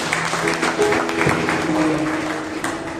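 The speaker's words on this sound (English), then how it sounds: "Let's clap for Greta D'Souza." A prayer-meeting congregation claps for a participant, a short burst of scattered hand claps over a murmur of voices and background tones.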